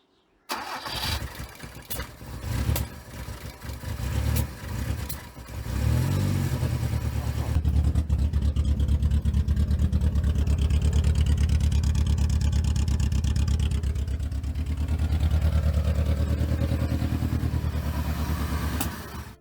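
An old Toyota KE70 car engine with vacuum leaks and no proper exhaust cranks with a few sputtering bursts, then catches and runs loudly and roughly, a steady rumbling idle revving slightly, close by.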